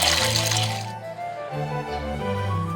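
Hot water runs from a household tank tap to soak rice, a brief rushing hiss in the first second that then gives way to quieter background tones.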